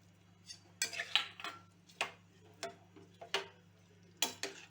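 A spoon stirs a pot of peas pulao made with soaked rice, peas, water and salt, giving a series of close, irregular metallic scrapes and clinks with no talking.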